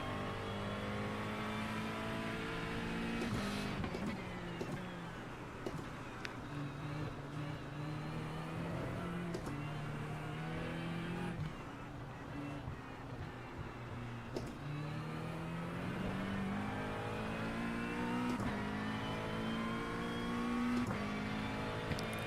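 A race car engine in the iRacing sim roars continuously, its pitch climbing and dropping through repeated gear changes as it accelerates, loud and steady throughout.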